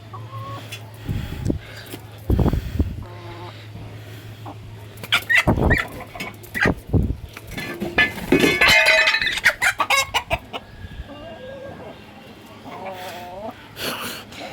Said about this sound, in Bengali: বক্সিং লড়াই চলছে মুরগির, দেখতে থাকুন।